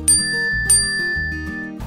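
Two bright bell dings strike in quick succession, each with a sharp metallic attack and a long ringing shimmer, alone over a soft bass musical backdrop.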